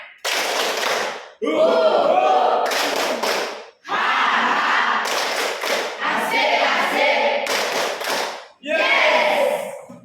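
Classroom students performing a rhythmic 'tepuk semangat' clapping chant, loud group bursts of claps mixed with shouted chanting voices in several separate phrases with short pauses between them.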